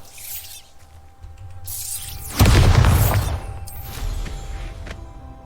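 A Bombarda spell explosion in Hogwarts Legacy bursts out as a loud, booming blast about midway through, rumbling and fading over a couple of seconds against quieter game ambience.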